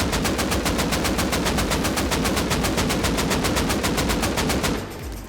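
AK rifle fired in full auto in the console version of Rust, a long unbroken burst of rapid, evenly spaced loud shots lasting nearly five seconds before cutting off.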